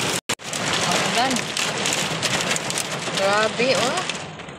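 Heavy rain pours down steadily on surfaces, loud and continuous, like a storm downpour, while a couple of people talk excitedly over it.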